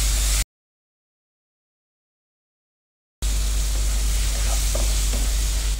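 Garlic chicken fry with butter and cream sizzles in a pan, a loud steady hiss with some stirring scrapes, broken early by a few seconds of complete silence before the frying returns.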